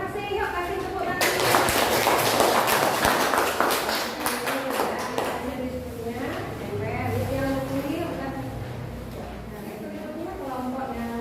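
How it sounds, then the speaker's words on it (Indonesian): Applause from a group of students in a classroom, a burst of clapping that swells quickly, holds for a few seconds and then fades, followed by people talking. "yuk kasih tepuk tangan"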